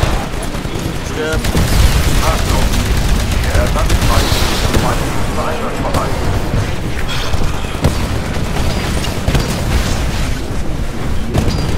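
Dense battlefield noise from the shooter game Titanfall: a loud, continuous wash of gunfire, booming explosions and sharp cracks over roughly twelve seconds, with a voice briefly heard through the din.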